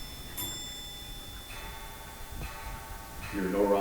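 Several clocks tick faintly in a quiet room, a steady soft tick-tock beneath a person speaking, with a few brighter tones ringing out.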